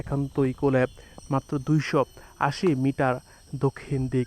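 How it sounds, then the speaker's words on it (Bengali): Crickets keep up a continuous high chirring outdoors in the countryside near a regional highway. The chirring runs faint and steady beneath someone speaking close to the microphone. "ঝিঝি পোকার ডাকছে"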